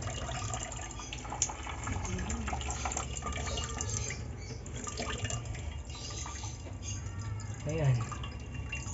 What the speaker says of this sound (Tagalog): So dumadaloy na yung tubig niyan.